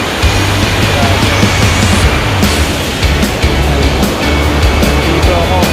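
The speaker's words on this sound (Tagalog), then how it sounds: "Nandito yung malakas na pagsak ng tubig." Strong waterfall at the Wawa River, a loud, steady broadband roar of falling water that stays dense and unbroken throughout, with a low rumble beneath.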